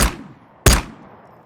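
Two sharp gunshots in the video game Ghosts of Tabor, the first right at the start and a louder second one about half a second later, each with a short decaying tail and no talk.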